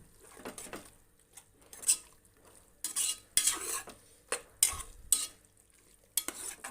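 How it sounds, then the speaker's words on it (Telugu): Goat tripe and gongura curry stirred in a pan, a spoon scraping and clinking against the metal in irregular bursts over a faint sizzle, close and moderately loud with quiet gaps between strokes. "కాస్త వేడి అయ్యేదాకా మంచిగా వేడి అయ్యేదాకా కొంచెం కలుపుకుందాం"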